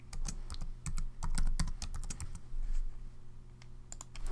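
A password is typed on a computer keyboard, giving close, crisp key clicks in quick uneven bursts over a low steady hum.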